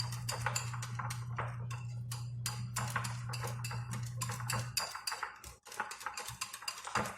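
Pancake batter with cocoa powder stirred in a bowl, with a steady run of quick clinks and scrapes of a utensil against the bowl, fairly close, plus a low hum through most of it.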